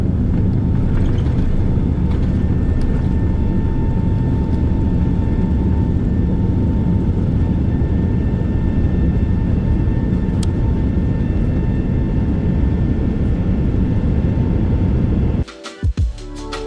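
Cathay Pacific Boeing 777-300ER taking off from Hong Kong, a loud sustained roar of jet engines and rushing air as heard from inside the cabin, steady for a long stretch before the sound abruptly drops away near the end.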